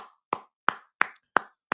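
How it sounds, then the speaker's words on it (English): Six sharp, evenly spaced hand claps ring out alone in a quiet room, a sparse, faint round of applause from what sounds like a single pair of hands. "Everybody give Corey a round of applause, man."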